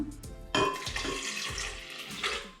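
Leftover water poured into a blender after almond milk blending, a splashing pour that starts abruptly and runs steadily at close range, with faint clinks of kitchenware.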